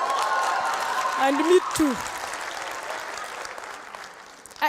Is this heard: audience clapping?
yes